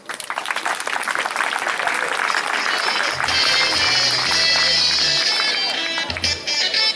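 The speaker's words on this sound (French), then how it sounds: "On acclame, on acclame," A crowd applauds at the 2015 dedication ceremony of the Sylvain Kivy Boudiongo secondary school in Bongolo, Gabon, with loud, sustained clapping and crowd noise that continues throughout.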